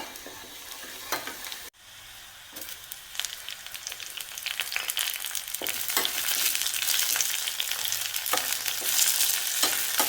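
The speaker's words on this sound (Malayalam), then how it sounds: "ഇത് കടുക് വറുത്ത് അതിനകത്തേക്ക് ഒഴിച്ചു കൊടുക്കാം" Mustard seeds frying in hot oil for tempering give a dense, continuous sizzle and crackle that grows louder and fuller, with sharp pops and an occasional stir of the pan, heard close.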